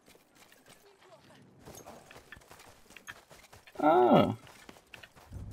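Horse hooves clip-clopping in Battlefield 1: soft, steady hoofbeats under a player's talk, with a brief loud whinny near the end.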